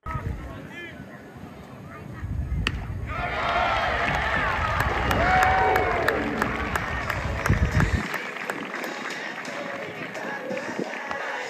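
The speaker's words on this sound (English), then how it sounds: "The natural sounds of baseball make it one of the best in-person sports to attend" Outdoor crowd murmur and chatter at a baseball game in a ballpark, with scattered voices and a rising swell of general noise, then quieter ambient bustle.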